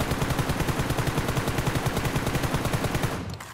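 Automatic gunfire in the mobile battle royale game BGMI: a rapid, evenly spaced stream of loud shots held for about three seconds before cutting off abruptly.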